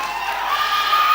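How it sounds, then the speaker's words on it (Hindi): Audience at a mushaira poetry gathering breaks into sustained applause and cheering, a dense, steady roar of clapping and voices filling the hall without pause. "एक बार जोरदार ताली लगा के इन्हें बता दें कि आप जग रहे हैं जी"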